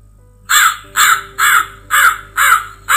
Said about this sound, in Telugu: చెట్టు పైన కాకి బావ పాట పాడింది.